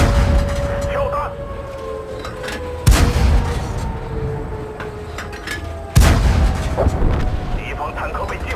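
Tank cannon blasts in a video game: two heavy booming shots a few seconds apart, each followed by a rumbling decay, over a steady low engine hum.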